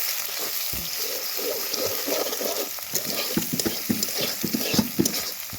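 Food for homemade pasta, with egg and boiled vegetables, sizzles steadily in a hot pan while a utensil stirs and scrapes it in quick, irregular strokes, close up.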